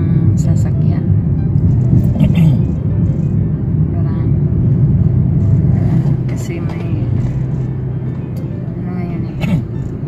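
Cars rolling past on a Toronto street in a continuous loud rumble of engines and tires, with traffic noise filling the scene and a person talking over it.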